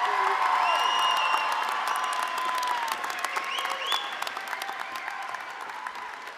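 A graduation audience for the South Mountain Class of 2018 in a performing arts center bursts into sustained applause with cheers and sharp whistles, slowly tapering off over several seconds.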